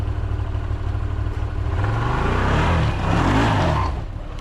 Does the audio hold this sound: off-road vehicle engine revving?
yes